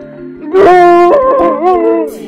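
A year-old sled dog at a kennel gives a close, loud drawn-out howl broken into yips and wavering whines.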